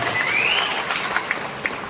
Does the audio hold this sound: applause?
yes